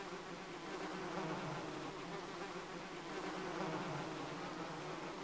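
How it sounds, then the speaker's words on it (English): Mosquitoes in Demon's Souls drone in a steady, dense insect buzz that holds unbroken and fairly faint throughout, with no voices. "I keep hearing mosquitoes"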